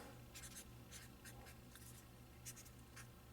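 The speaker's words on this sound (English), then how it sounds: "let's grab a Sharpie again here, and we're writing on wet paper." A Sharpie marker writes on wet paper in a series of quick, close scratchy strokes, soft and irregular over a steady low hum, with no voice.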